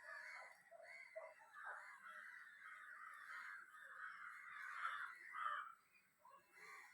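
Crows caw continuously near a mango tree in a garden, a dense chorus of harsh overlapping calls running steadily throughout at moderate distance, with no talk.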